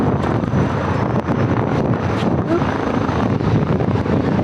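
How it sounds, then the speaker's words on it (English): A steady, broadband rumble of a helicopter passing overhead on the New York City waterfront, blended with wind buffeting the microphone; no clear voices. "if you're wondering what that sound is, that is a helicopter"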